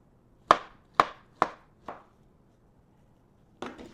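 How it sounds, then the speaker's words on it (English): A knife slicing ripe bananas on a cutting board while making monkey butter for canning: four crisp, evenly spaced chops, then a pause and one more cut, close and clear with no talking. "And you're just gonna slice them up."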